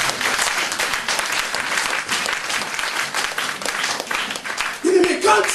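A church congregation bursts into sustained applause and cheering, a dense wash of clapping with shouts and voices mixed in, loud and close throughout, with a voice rising near the end.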